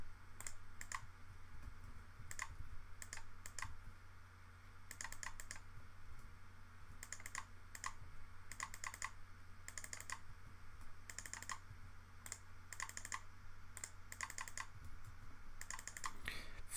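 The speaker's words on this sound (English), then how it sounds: "Furious clicking." Rapid computer keyboard typing and mouse clicking come in quick clustered bursts with short pauses, faint and close over a low steady hum.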